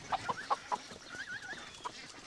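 Farm chickens drinking water and eating breakfast cluck in a quick run of short, close calls, then a few softer murmurs and one last cluck.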